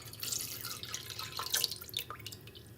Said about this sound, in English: Next, I'm gonna pour about 350 mils of milk.